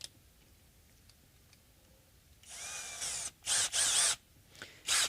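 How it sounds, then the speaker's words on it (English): A drill bores into a bridge jig on a Univox Hi-Flier guitar, starting after a quiet stretch of faint ticks, then whirring in several loud, close bursts with short pauses between them. "And now we can start drilling"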